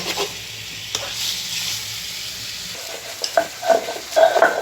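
Ash gourd and shrimp fry in a pan with a steady broadband sizzle, then spoon or spatula clinks and scraping stirs grow louder near the end. No one speaks.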